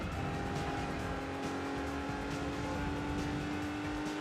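Race car engine from Gran Turismo 3 on PS2, a sustained steady drone with a held tone and some tire squeal, loud and continuous throughout with no talk.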